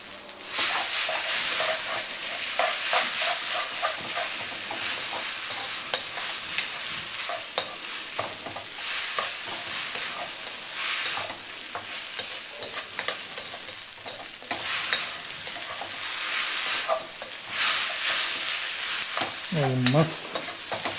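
Atta Maggi noodles stir-fried with soy sauce in a pan make a loud, continuous sizzle, with repeated scraping and stirring strokes and a brief low voice near the end.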